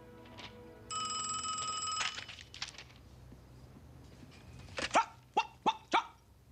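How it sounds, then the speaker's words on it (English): A phone rings briefly, then a dog barks four times in quick, loud bursts close by. "Yes, ma'am, that's my dog."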